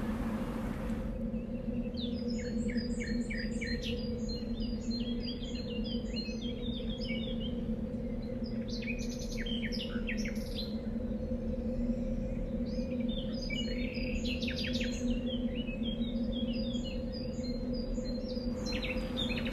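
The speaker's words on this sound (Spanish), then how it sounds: "Los loros están en su día." A flock of parrots perched on wire fencing in a city chatters and calls, with bursts of high chirps and squawks rising and falling over a steady low hum for nearly twenty seconds.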